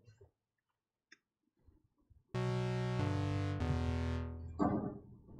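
A deep electronic synth bass line, an Electro C preset, enters after near silence, holding sustained buzzy notes that step between pitches before a brief noisy flourish.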